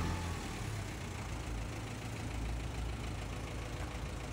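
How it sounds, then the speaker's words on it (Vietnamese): A tractor's diesel engine, on farm machinery imported from Japan, idles steadily with a low, even rumble and faint knocking, loud and close, with no voices. "chúng ta có thể thưởng thức cái tiếng máy nổ của nó rất là êm dịu luôn"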